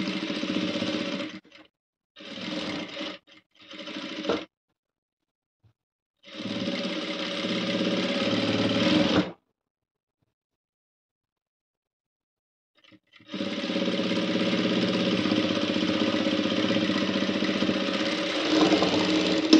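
Sewing machine stitching blouse fabric, running in several bursts: three short runs, a longer one, a pause, then a long continuous stretch of steady motor hum and needle chatter, close and alone.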